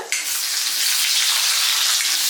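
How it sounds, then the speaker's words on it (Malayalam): Chopped ginger dropped into hot oil with mustard seeds, a sudden loud hiss that settles into a dense, steady sizzle, close up with no talk. "അതിലേക്ക് തന്നെ നമ്മുടെ ഇഞ്ചി, അരിഞ്ഞു വെച്ചിരിക്കുന്ന ഇഞ്ചി ചെറുതായിട്ട് നമ്മൾ അരിഞ്ഞു വെച്ചിട്ടുണ്ടായിരുന്നു, അത് ചേർത്ത് കൊടുത്തിട്ടുണ്ട്"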